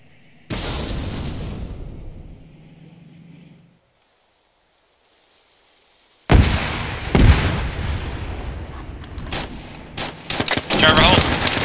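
Tank high-explosive fire and gunfire in ARMA 3, heard as a loud burst of blast and rumble that fades into near silence, then heavy close gunfire and explosions with sharp repeated reports.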